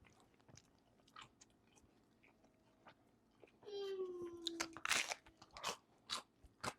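A bite into crunchy gluten-free pizza crust made from store-bought dough gives a close, loud crunch, followed by several crisp chewing crackles with no talking.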